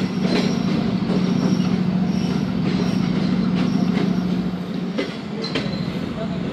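Karachi Express train pulling away from Drigh Road Junction, a steady rolling rumble with a low hum, metallic wheel squeals and a few clanks, loud and continuous, heard from on board.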